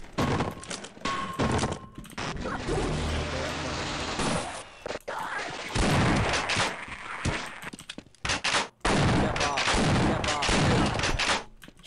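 Enemy gunfire in Half-Life 1 comes as loud bursts of rapid shots and thuds, broken by short gaps, with game combat noise filling most of the stretch.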